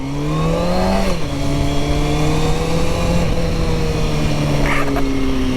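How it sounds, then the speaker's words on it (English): A motorcycle engine revs steadily with harmonic whine, pitch climbing then dropping briefly as it shifts from first up to third gear, continuous and close throughout. "I'm going to start out in first gear, and then I'm going to probably get up to third gear"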